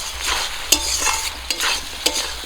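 Boiled taro and potatoes are sautéed with rohu fish in a pan, sizzling steadily while a spatula scrapes and stirs in a few sharp, evenly spaced strokes, close up with no voices.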